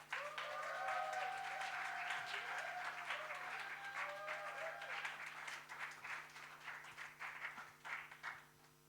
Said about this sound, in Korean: 이렇게 큰 박수로 환영해 주셔서 감사합니다